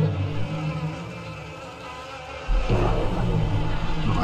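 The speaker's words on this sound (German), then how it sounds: "Jetzt kommen einmal Bienen dazu." Swarming bees in the platform game Yooka-Laylee make a steady electronic buzz over game music, growing denser and louder partway through as more join in.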